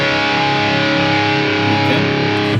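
Distorted electric guitar plays the opening of a riff, one sustained heavy chord with the fifth in the bass, loud and ringing throughout.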